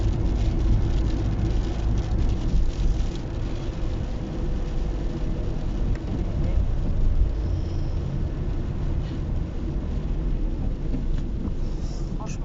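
Heavy rain pours steadily outdoors, a dense, loud, continuous broadband wash with a low rumbling roar that holds unbroken throughout.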